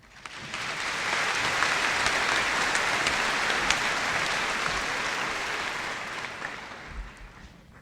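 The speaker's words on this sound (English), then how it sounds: "Let's take a moment to thank all of our staff with a round of applause." A graduation audience applauds the staff: dense, sustained clapping from a large crowd that swells quickly, holds steady for several seconds, then tapers off slightly, heard from within the hall.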